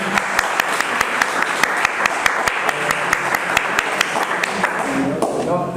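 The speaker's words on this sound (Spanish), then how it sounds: "un aplauso pues para nuestro" At a lecture and musical performance on the charango, the audience gives a maestro steady, loud applause for the whole stretch, with a few voices rising briefly near the end as it fades.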